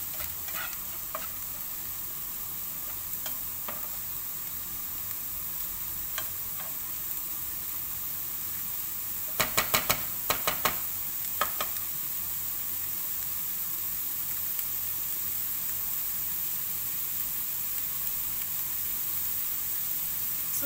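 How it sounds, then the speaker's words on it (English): Onion frying in a pan, a steady, faint hiss of sizzling oil throughout, with a brief cluster of sharp stirring clicks near the middle and a few scattered ticks elsewhere, no talking. "I think it takes 3 to 4 minutes to cook the onion"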